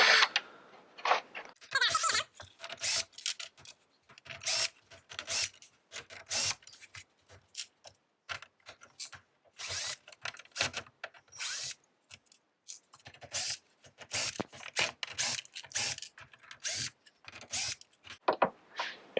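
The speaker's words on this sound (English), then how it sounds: "we're going to start over here and start pulling these Phillips head screws" Phillips head screws are backed out of a SawStop Jobsite table saw, with repeated short ratcheting and scraping clicks in quick bursts, close and fairly quiet, with a brief voice at the start.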